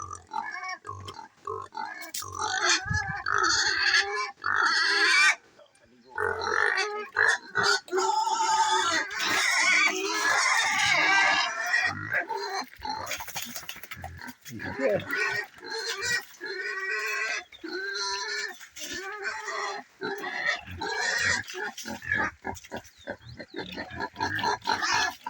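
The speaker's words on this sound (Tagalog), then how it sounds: "Mga gutom na sila ang mga baboy." Hungry pigs in a pen with an unfinished, uncemented floor grunt and squeal loudly and almost continuously, close by, in a busy overlapping chorus with sharp shrieks rising above the grunting.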